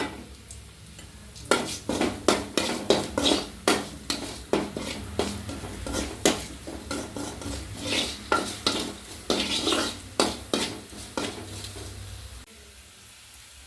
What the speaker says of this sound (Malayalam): സവാള നന്നായിട്ട് മൂക്കട്ടെ കേട്ടോ